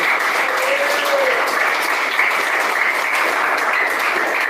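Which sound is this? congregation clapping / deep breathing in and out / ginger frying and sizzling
congregation clapping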